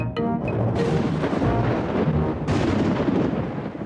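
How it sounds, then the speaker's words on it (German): Cartoon thunder from a thunderstorm rumbles and cracks for several seconds, loud and rolling, with a sharper boom midway. "Ja, das war Donner."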